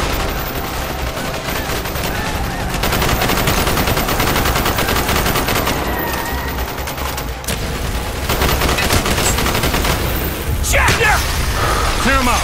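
Call of Duty Black Ops mission gunfire, dense sustained automatic bursts and rifle shots crackling loud and continuous through a street battle, with shouted voices mixed in.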